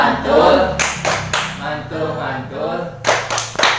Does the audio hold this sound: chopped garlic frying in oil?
no